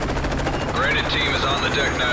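Rapid automatic gunfire in Call of Duty gameplay, a dense continuous rattle with helicopter-like drone and whistling effects, loud and constant throughout.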